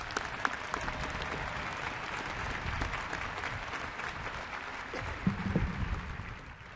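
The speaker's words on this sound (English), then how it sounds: "Please join me in a round of applause in recognition of our graduate students." Audience applause for graduate students at a university commencement ceremony, a steady wash of clapping from a large crowd lasting several seconds, moderately loud with a few sharper claps standing out.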